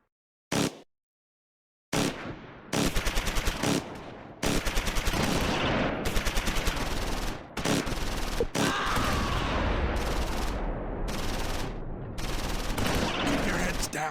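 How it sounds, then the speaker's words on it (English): Sustained machine gun bursts and heavy tank fire in the WWII strategy game Close Combat 4, set in a Battle of the Bulge fight at Esch-sur-Sûre; a sharp crack, a pause, then about twelve seconds of dense, loud, overlapping gunfire. "The rifle squad is pinned in the keep under light machine gun fire from the building opposite,"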